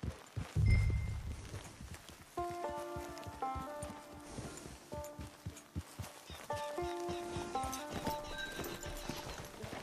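Horse hooves clip-clopping at a walk in the Red Dead Redemption 2 video game, a steady near rhythm of hoof strikes with a snort at the start and a musical score playing underneath.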